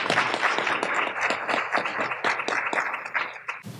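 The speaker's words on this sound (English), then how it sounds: "give him a round of applause and thank him" Audience applause for a speaker at a cannabis policy event: a short burst of clapping with distinct individual claps, fairly soft and steady.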